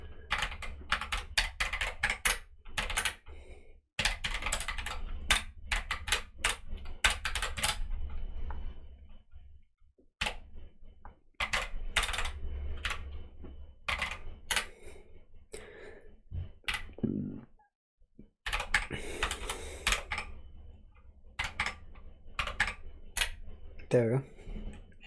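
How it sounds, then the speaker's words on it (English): Computer keyboard typing in a close, quiet room, fast bursts of keystrokes with short pauses, brief gaps of silence and one longer break in the middle. "I typed in sudo by accident."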